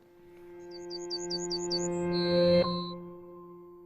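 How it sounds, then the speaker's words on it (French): Songbirds call at dawn in the Moselle countryside, a quick series of about seven bright chirps and then a longer whistled note, clear and fairly close over a steady low hum with tonal undertones. "Pas un bruit, si ce n'est le chant des oiseaux."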